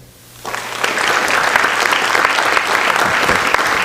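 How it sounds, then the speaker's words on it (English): A school board meeting audience breaks into steady applause for National Hispanic Scholars, starting abruptly and holding at full strength with no talk over it. "Let's have a round of applause for all of our National Hispanic Scholars."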